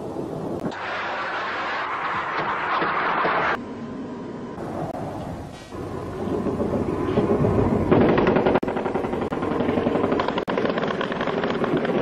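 Helicopter over San Carlos Bay during a 1982 Falklands War Argentine air attack, a loud continuous rotor and engine roar with abrupt cuts and shifts, plus sharp bursts suggesting gunfire.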